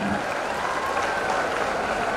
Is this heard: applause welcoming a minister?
yes